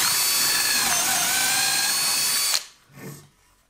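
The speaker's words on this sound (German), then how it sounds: "Wir nehmen den Bohrer" A power drill whines loudly and steadily for a couple of seconds as it bores into wood, then cuts off abruptly, followed by a soft knock.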